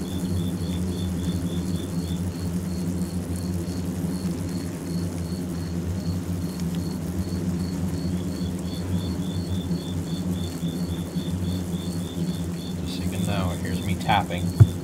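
A large hornet nest with a microphone pushed underneath, giving a steady dense hum and droning buzz of many hornets throughout, with a faint rhythmic high chirping in the background and a brief sharp click near the end.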